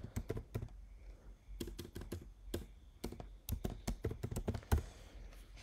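Someone types LaTeX code on a computer keyboard in close, irregular bursts of crisp key clicks with short pauses between runs, and no voice over it.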